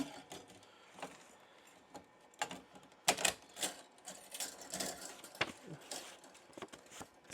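An embroidery machine stitches a hat that is clipped into a hoop with stabilizer inside, giving off a quiet, busy mechanical rattle of rapid needle strokes that builds in bursts.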